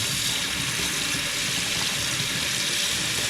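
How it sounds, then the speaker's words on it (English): Tap water pours through the group handle of a home espresso machine into a sink, a steady rushing splash that continues unbroken throughout. "I just go turn the tap on, and I'll let the water pour through the group handle on each side"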